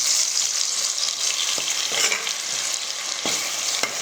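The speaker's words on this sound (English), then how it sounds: "add in 2 medium-sized onions that were finely chopped. And then wait until the onions have braised." Finely chopped onions fry in melted butter ghee in a pot for Kashmiri chicken masala, giving a loud, bright, steady hiss close up, with a few spoon scrapes and stirs breaking in and no one talking.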